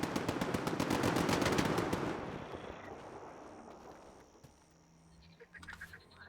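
Automatic gunfire in the video game Adventures of Jimmy Artifacts, set in a swamp: a long rapid burst of shots, loud and dense, cutting off after about two seconds and leaving a fading echo and faint ambient noise.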